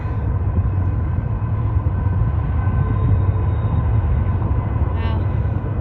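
A Norfolk Southern (NS) train rolls past outdoors in cold weather, a steady loud broadband rumble with constant low-end roar and a faint high squeal near the end, no speech over it.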